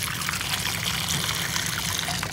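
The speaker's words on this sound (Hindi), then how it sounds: "ये देखिए इस तरह से पानी भरना है आपने पेड़ में" Cold water pours steadily from a tap into a container meant for birds in summer heat, a continuous close trickling stream with no talk over it.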